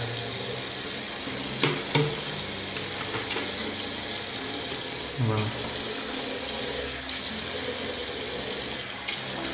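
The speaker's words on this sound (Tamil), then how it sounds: "நான் தண்ணி ஊற்றி கேமராவே கழுவுறேன்" Water poured from a tap over a camera sealed in a cheap waterproof cover, a continuous splashing stream with a few louder gushes and splatters, steady and close.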